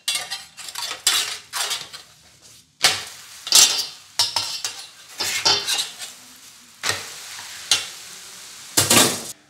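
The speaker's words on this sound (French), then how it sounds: "Je retourne mes crêpes." Crêpes are flipped and cooked in a buttered pan with salted butter: a spatula clatters and scrapes against the pan in a string of sharp, close knocks, over a soft sizzle, with no talking.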